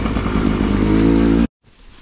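Trail motorbike in first gear doing a small wheelie up a boulder on woodland trails, a loud close engine roar that rises steadily then cuts off abruptly, followed by faint quiet.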